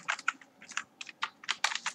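Code typed on a computer keyboard: rapid, uneven clusters of crisp key clicks recorded close up, with short pauses between bursts and no talking.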